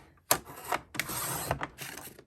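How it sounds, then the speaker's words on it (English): A 12 by 12 inch sheet of paper is trimmed for a Dollar Tree journal with two short, close scraping cuts, each a rough rasping swipe separated by a brief pause. "I'm just going to trim this down to 8 inches"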